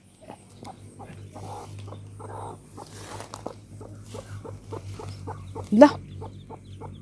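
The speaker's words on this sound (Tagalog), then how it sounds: "Tapos na may manok na ko nga naglumlum guys." A brooding hen clucks in short, regular low pulses close by, a steady rhythmic series with a brief spoken word near the end.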